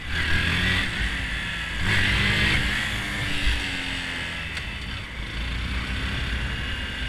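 A Honda Grom motorcycle engine revs during beginner wheelie attempts, its note rising and falling in steady pulls, loud and fairly close with no talking.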